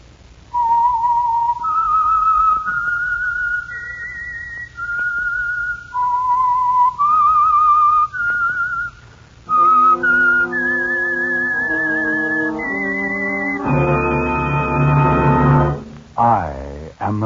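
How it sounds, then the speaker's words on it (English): The signature whistled melody of the 1950 Signal Oil radio program The Whistler, a solo whistle phrase of rising and falling notes joined at the end by orchestral accompaniment. "the signal to listen for is this whistle that identifies the Signal Oil program"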